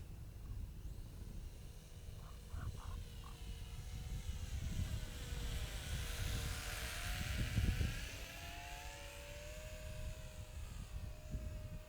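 A TopRcHobby 450mm Mini CUB-X, a small radio-controlled model plane, drones overhead with a steady propeller whine whose pitch shifts as it passes, swelling louder mid-flight before easing back, over outdoor wind rumble.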